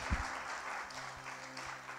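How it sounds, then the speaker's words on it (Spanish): A church congregation applauds, a moderate wash of clapping from many hands heard somewhat distant in a large room. "Alguien denle un aplauso a Dios por eso."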